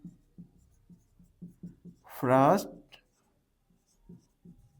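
Pen or chalk scratching out short, evenly spaced strokes while writing out fraction groups for a sixth-grade maths exercise, soft and close, with a brief burst of speech in the middle.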